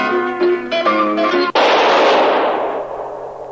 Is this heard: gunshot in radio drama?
yes